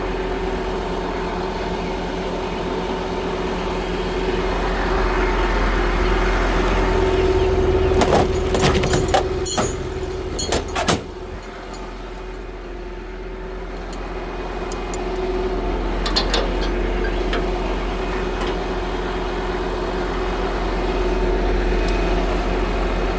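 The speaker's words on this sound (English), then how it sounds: "the truck's being real loud right now when it doesn't really need to be" A truck engine idles loudly with its PTO running, a steady low drone and hum that carries throughout, broken midway by a few sharp metallic clanks and rattles.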